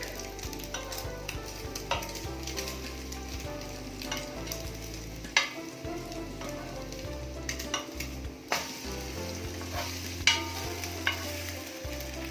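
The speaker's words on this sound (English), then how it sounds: "And you need to fry them until you can see the toast turning brown, golden brown." Bread slices for French toast fry in oil in a pan, a steady crackling sizzle with occasional sharp knocks and scrapes as they are turned, close and without talk.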